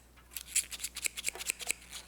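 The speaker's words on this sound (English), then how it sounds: "taping it up and then snipping, and you can see there you have a nice clean cut" Sharp shears snip through taped polyester rope in a quick series of about eight crisp, close cuts, with no talking.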